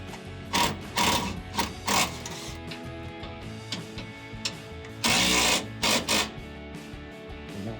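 A ratcheting wrench tightens a bolt on a Belltech Street Performance rear shock of a 2007–2018 Silverado/Sierra 1500, giving several close bursts of quick mechanical clicking separated by pauses.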